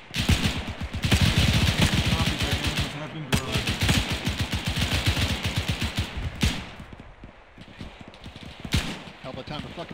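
Rapid machine-gun bursts in a war video game rattle loudly and densely for most of the span, with a few separate shots near the end, under shouted voices of players.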